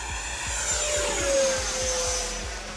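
A Freewing J-10 Vigorous Dragon 90mm electric ducted-fan RC jet flies past, its whine sweeping down in pitch as it passes at moderate distance, with steady rushing air noise throughout.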